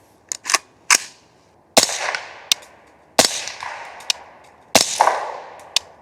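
Several sharp, muffled cracks from subsonic .300 Blackout rifle rounds go off at irregular intervals, each followed by a brief echoing decay, heard from about 25 yards in an otherwise quiet outdoor setting.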